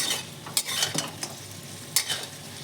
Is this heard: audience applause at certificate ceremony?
no